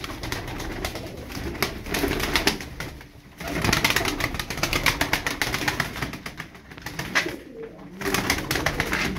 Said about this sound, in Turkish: Hayvandaki kanat sesine bakın.